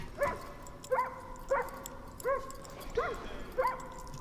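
A dog in the video game Far Cry New Dawn barks six times at an even pace, each bark sharp and clear at moderate distance, with short gaps between them and no talk over it.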